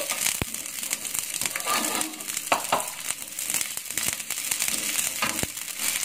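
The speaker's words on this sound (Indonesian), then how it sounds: "Kita aduk sampai bawang bombaynya agak layu." Onions stirred in a frying pan give a steady sizzle with crinkly scraping and occasional sharp clicks of the utensil against the pan, close and continuous with no talk.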